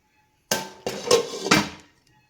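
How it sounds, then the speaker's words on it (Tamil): A metal lid set onto a cooking pot of okra tamarind curry (vendakkai kaara kulambu) on the stove, making three or four quick, close metallic clanks and rattles before settling into silence. "மூடி போட்டு வேக வச்சுக்கலாம்."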